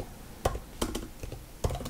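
Keys on a computer keyboard are tapped while Arduino code is typed, a few sharp, close clicks spaced irregularly with quiet gaps between them.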